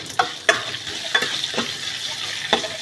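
Curry leaves sputter in a pan of frying cashews and lemon rice seasoning, a continuous close sizzle with several sharp crackling bursts and stirring clicks.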